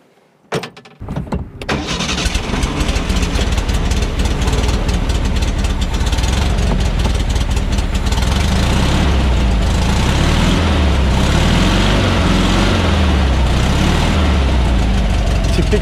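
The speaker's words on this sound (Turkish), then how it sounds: "Tipik bir boxer motor sesi. Volkswagen'lerden, Beetle'lardan hepimiz aşinayız arkadaşlar bu sese." Air-cooled boxer engine of a classic Porsche 356 cranks and catches after a brief silence, then settles into a steady, loud, close idle with an even low throb that holds for the rest of the clip.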